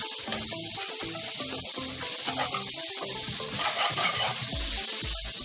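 Chicken and bread pieces fry in a pan for Chinese fried rice with manchurian, giving a loud, steady sizzle broken by stirring scrapes and clatter, with no talking.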